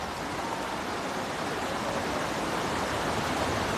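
Strong river current rushes steadily past a fishing village, a loud, even broadband hiss and roar of water with no pauses and no voices.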